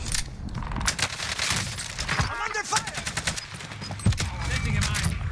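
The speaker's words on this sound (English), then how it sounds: "I'm under fire." Dense, rapid gunfire crackles continuously in a Call of Duty Warzone match, with bursts overlapping throughout and a voice speaking briefly amid the shooting.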